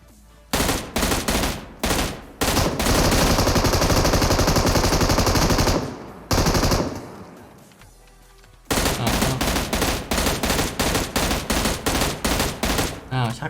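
A boss fires a machine gun in PUBG Mobile's Metro Royale mode, with loud sustained automatic bursts, a brief lull, then a long run of rapid evenly spaced shots continuing to the end.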